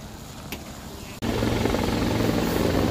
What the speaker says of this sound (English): there's a big old helicopter right now. It's just flying really well.